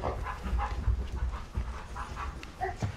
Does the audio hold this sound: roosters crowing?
no